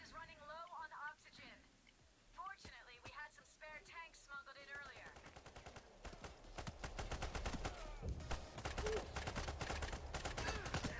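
An AK rifle fires in the heist shooter game Payday, with rapid automatic bursts growing dense and loud over the second half, after a stretch of talk at the start.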